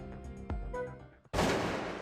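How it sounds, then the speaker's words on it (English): A sudden loud burst of gunfire from the video game Trauma Center: New Blood cuts in after a quieter tonal stretch and holds as a dense, sustained blast to the end. "Was that a gunshot?"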